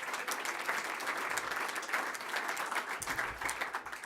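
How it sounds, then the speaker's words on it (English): Guests at a Chamber of Commerce awards gala in a banquet room give a warm round of applause, steady clapping from a seated audience heard fairly softly and on its own. "Give them a nice round of applause."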